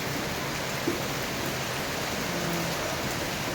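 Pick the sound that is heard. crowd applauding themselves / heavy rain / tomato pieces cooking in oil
heavy rain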